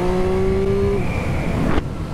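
A 2023 Triumph Street Triple RS triple-cylinder motorcycle engine revs in first gear, loud and close: a steady high whine that cuts off sharply near the end.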